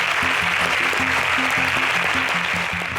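Applause for contestants on an agricultural science quiz show, a continuous hiss of clapping with a low, repeating musical tone pattern running underneath.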